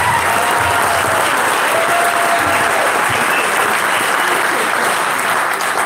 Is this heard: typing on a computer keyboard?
no